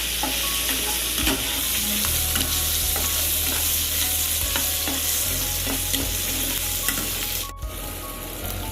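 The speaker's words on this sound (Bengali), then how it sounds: "এবার একটু ভাজা ভাজা করে নেব" Onion and tomato with salt and turmeric frying and being stirred in a pan, a steady close sizzle with scraping stir strokes throughout, no talk.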